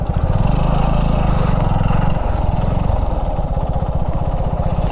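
A motorcycle engine idles and revs steadily up close during a hard rainstorm in Chennai, its low rhythmic thrum continuous throughout with a rough, slightly wavering pulse.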